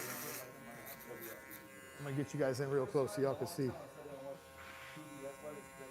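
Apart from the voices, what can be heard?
electric shaver cutting thick hair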